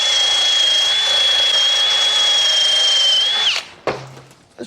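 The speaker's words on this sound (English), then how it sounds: "get your drill out, put your wire wheel on it" A power drill fitted with a wire wheel grinds steadily on a 1996 Harley-Davidson Tour Glide near the carburetor, a loud continuous whine that holds for about three and a half seconds, then spins down and stops, followed by a few brief clanks.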